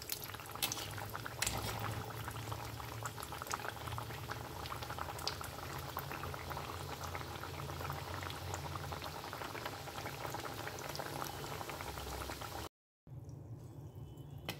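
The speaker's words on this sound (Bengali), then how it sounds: "এবার আমি একটা একটা করে মাছরি দিয়ে দেখো ভেজে নেব, একটা দুটো করে" Methi snacks deep-frying in hot oil, a steady close bubbling and sizzle running throughout, broken by a brief dropout near the end before the frying resumes.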